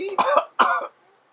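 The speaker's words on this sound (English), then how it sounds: "Cough." Two quick, close coughs come one after the other from a person near a microphone, followed by near silence.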